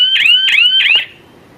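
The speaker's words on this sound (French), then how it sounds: "Ça c'est l'alarme du tracker." A motorcycle GPS tracker alarm gives three quick rising electronic chirps, loud and close, then cuts to near silence.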